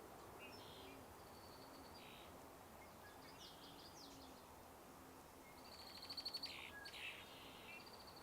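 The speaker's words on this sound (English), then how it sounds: "Red-winged blackbird." Red-winged blackbird calls outdoors near water, faint and distant among other birdsong over a constant low background rumble, with a brief louder trill near the end.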